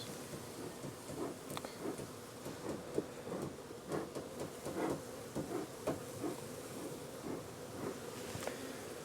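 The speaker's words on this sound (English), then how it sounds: "We appear to have a population of bees in there." Honey bees humming inside a beehive super during a farm hive inspection, a faint, steady buzz with soft scattered rustles and knocks, no one speaking.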